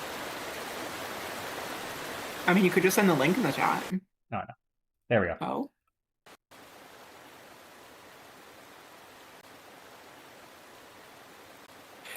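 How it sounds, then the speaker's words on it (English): Steady broadband rush of a looping waterfall recording streaming from a live broadcast, holding on evenly after a burst of nearby talk and brief silent gaps. "78 hours of waterfall sounds"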